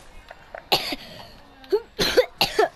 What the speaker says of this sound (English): Oh, my cough.